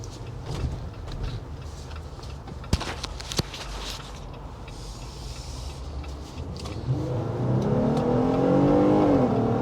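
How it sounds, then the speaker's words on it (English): A 2022 Jeep Gladiator Rubicon's Pentastar engine rises from a steady low drone into a louder, strained climb over the last few seconds, heard from inside the cabin with a couple of sharp knocks partway through. "You can hear that Pentastar really works hard for its money."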